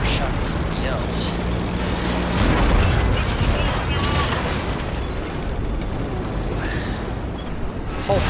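Enemy artillery shells burst around a T57 Heavy tank in a video game, a dense, rumbling barrage of booms over continuous engine noise, with someone talking throughout.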